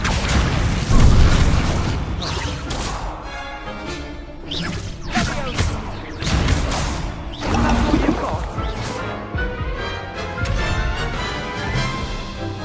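Spell blasts and booming explosions from magical combat in the game Hogwarts Legacy: repeated whooshing casts and crashing impacts in quick succession, with a voice calling out spells over the action.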